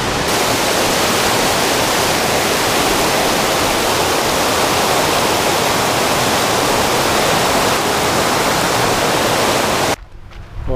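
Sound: small waterfall

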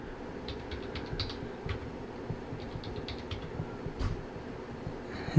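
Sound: typing a new password on a Mac keyboard

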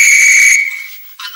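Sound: whistle being blown

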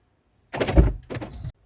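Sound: car door unlocked by handle with smart key

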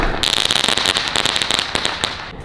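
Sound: 8 sky shot firework launching and bursting

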